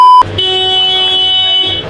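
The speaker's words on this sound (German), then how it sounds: "wir wissen, dass deine Hupe läuft" A car horn sounds a sustained, loud, brassy honk that holds steady for well over a second, right after a short electronic beep.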